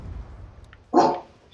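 A single short dog bark from a nearby room, one sharp burst after a quiet moment, heard during a live Black Ops 2 gaming session.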